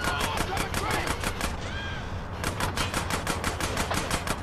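Rapid automatic gunfire from Big Smoke in GTA San Andreas Definitive Edition, a steady rattling stream of loud shots that briefly pauses midway before resuming at the same fast rhythm.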